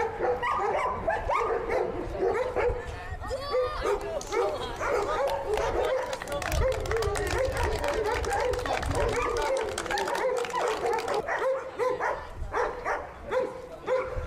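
Police dogs at a canine training center for explosives and narcotics detection bark, yip and whimper repeatedly and fairly close, continuing throughout while a person talks over them.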